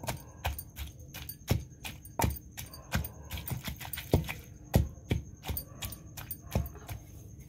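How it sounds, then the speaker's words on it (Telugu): Cucumber being chopped with a knife, a fast, uneven series of sharp thuds and clicks on a cutting board, close and fairly quiet with no voices. "కట్ చేస్తున్నా."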